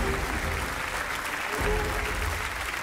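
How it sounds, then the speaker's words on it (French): A theater audience at a mentalist's stage show claps in sustained, dense applause that holds at an even level throughout. "vous pouvez les applaudir pour les consoler"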